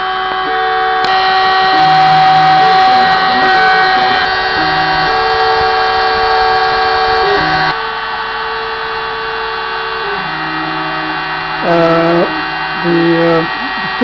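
A CNC machine spindle milling a PCB gives a steady, loud high whine, with motor tones that shift in pitch as the tool moves slowly across the board, plus brief pitch swoops near the end.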